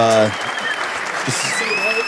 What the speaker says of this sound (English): Official 3 claps.